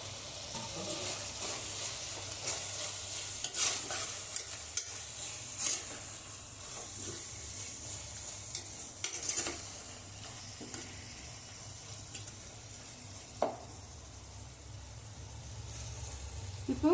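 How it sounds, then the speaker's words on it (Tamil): Prawns fry in a pan for biryani, a steady hiss of sizzling oil with scattered clicks and scrapes as the spoon stirs them, going on for a long stretch without talk. "இப்போ இறால் நல்லா வதங்கிடுச்சு."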